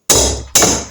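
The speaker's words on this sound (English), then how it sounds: "I've got a proper lump hammer this time. Going to give it some jip," A heavy lump hammer strikes a socket on the swinging arm of a Norton Commando motorcycle twice, about half a second apart. Each loud, close metallic blow rings out briefly and then decays.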